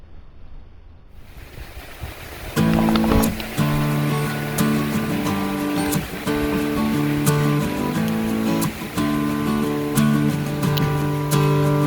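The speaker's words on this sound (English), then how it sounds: "I don't know if you can see all the leaves blowing" Strong outdoor wind roars steadily on a snowy fall day with leaves blowing, its rushing noise loud and continuous against the microphone after a quieter start.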